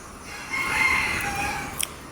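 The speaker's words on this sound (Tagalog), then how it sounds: "Oh, ang dami nilang mga manok na pansabong yan guys." A rooster crows once among a flock of fighting cocks on a farm, a single drawn-out call at close range with a brief cluck near its end.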